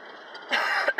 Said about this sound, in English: I just have an allergy cough.